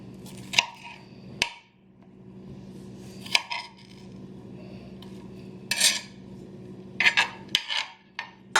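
Green peppers chopped on a cutting board with a knife, scattered sharp taps and clacks in uneven bursts over a steady low hum, close and fairly quiet.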